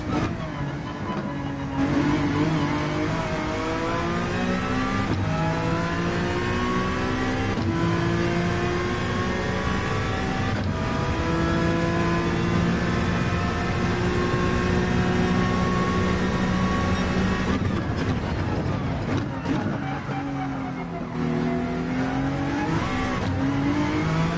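A Honda NSX race car in Gran Turismo revs hard and continuously, its engine note rising and falling through gear changes with a brief dip near the end, loud and close throughout.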